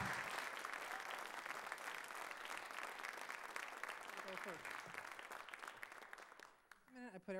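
Sustained applause from an audience at a township address, dense and steady from near and far, fading as someone speaks toward the end.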